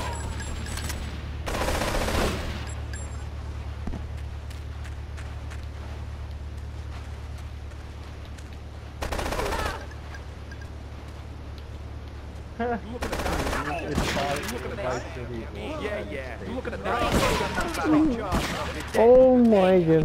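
Video-game gunfire from Grand Theft Auto 3 during a mafia rampage, with bursts of rapid automatic shots scattered across the clip over a steady low hum, loud and close, and a voice talking in between.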